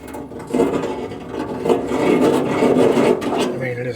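A carbide-edged deburring tool rasping at a hole in aircraft sheet metal during a Sonex kit-plane repair, working it oblong with steady scraping strokes back and forth, close and fairly loud, with no talk.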